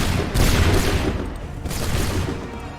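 Musket volley gunfire in Assassin's Creed 3, two loud, booming fusillades of many shots firing at once, each followed by a rumbling decay.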